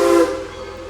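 Tweetsie Railroad steam locomotive #190 lets out a loud, close, rich harmonic whistle blast. The tone fades slightly over its short duration.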